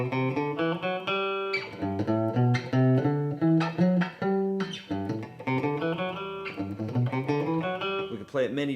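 Major scale played one note at a time: a sequence of clear, ringing pitched tones that step along in an even rhythm, with a short pause partway through.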